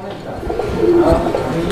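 Army breed pigeons coo in short, soft, rounded bursts close by, a low burbling murmur with a hint of background voices.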